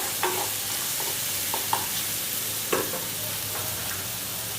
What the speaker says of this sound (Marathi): तेलामध्ये मस्त फोडणी परतून घ्यायची, कच्ची नाही राहू द्यायची मिरची लसूण